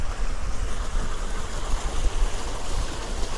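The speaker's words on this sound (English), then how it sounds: "this seating area and this hot tub with a waterfall" A waterfall pouring into a hot tub on the front deck of a boat, a steady, close rushing splash mixed with wind noise, with no talking.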